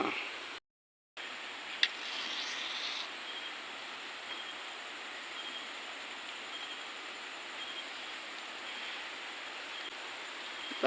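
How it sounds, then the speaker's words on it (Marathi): Rain falls steadily during a Tulsi vivah ceremony in Gothane village, Malvan, Sindhudurg, in the Konkan, as a constant broadband hiss that stays even throughout with no voices. "पाऊस पडतात असा"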